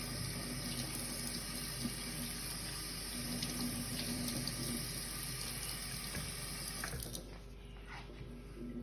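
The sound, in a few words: washing vegetables under running tap water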